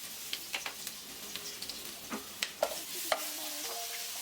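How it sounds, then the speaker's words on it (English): A spoon stirs ginger garlic paste frying with whole spices in a pan for a restaurant-style chicken rezala, producing quiet, irregular scraping clicks over a soft, steady sizzle, with no talking. "stir it well."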